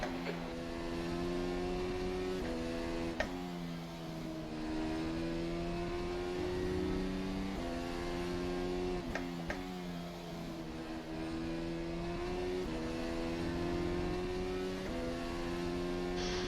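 Race car engine in the racing game rFactor 2, a steady droning whine with rising and falling pitch as gears change through repeated accelerations, continuous and fairly loud throughout.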